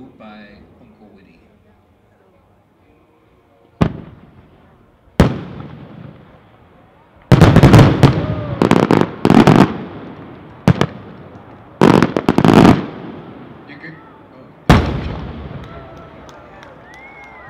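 A 6-inch three-report timed-report fireworks shell with blue at a fireworks showcase bursts in a series of sharp, loud booms, several distinct reports spaced a second or two apart with crackling tails, over faint crowd murmur.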